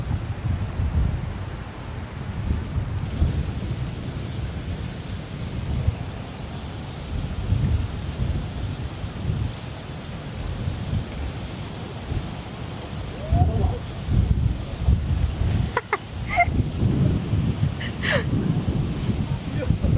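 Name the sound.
wind blowing at the seaside in Da Nang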